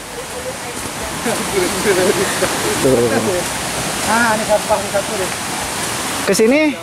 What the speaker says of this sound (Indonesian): Gemuruh air.